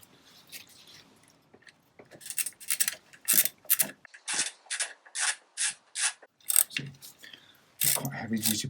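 Heavy-duty bolts being tightened with a ratchet while fitting a centre stand to a Honda CB500X motorcycle, a run of close, rhythmic ratcheting bursts with short pauses and a harsher final stretch, no talking.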